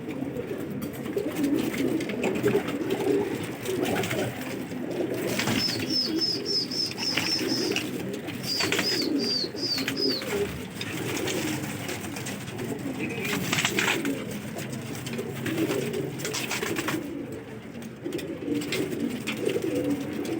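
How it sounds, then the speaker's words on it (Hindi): Fighting pigeons in a loft, sold in groups of four, coo softly amid steady low background murmur and rustling, with a few brief chirpy calls mid-clip. "ये सारे 4 सेल के कबूतर हैं।"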